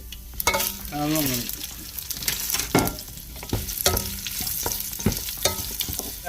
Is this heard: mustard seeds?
yes